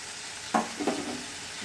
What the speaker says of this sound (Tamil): இதுவும் அதை கூட சேர்த்து நல்லா கிண்டிக்கிடுவோம்